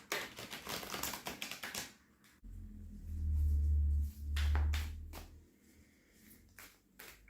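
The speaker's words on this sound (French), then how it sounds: "j'ai besoin de mélanger le tarot sur ma table" Tarot cards shuffled by hand on a table, a run of quick papery riffling taps at first, then a low rumbling lull and a few scattered card snaps later on, fairly close and quiet.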